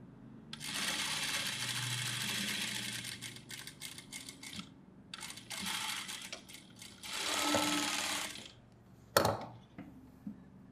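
A sewing machine in a tailoring class stitches fabric in several close bursts of rapid mechanical whirring, separated by short pauses, with a sharp clack near the end and no speech.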